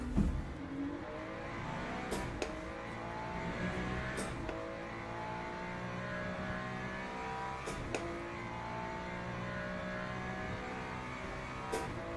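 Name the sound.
Ferrari race car engine in Le Mans Ultimate video game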